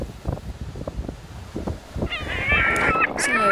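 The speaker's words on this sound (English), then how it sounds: "Essaouira seagulls." Seagull cries break out in the second half at Essaouira, Morocco, a cluster of shrill calls over low wind and background rumble, following quieter scattered noises.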